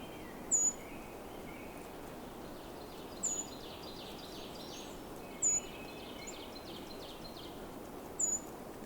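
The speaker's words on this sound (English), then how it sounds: "Hearing some Swainson's thrush too." A Swainson's thrush calls outdoors with brief, high, rising notes repeated about four times at steady intervals, faint over a constant wash of background noise.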